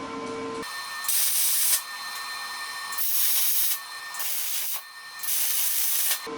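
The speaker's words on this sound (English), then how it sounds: "shoot it with a coat of high temp paint" Aerosol can of high-temperature paint sprayed onto a metal outdoor fireplace grilling rack in three steady hissing bursts, each about a second long and close up, with short quiet gaps between.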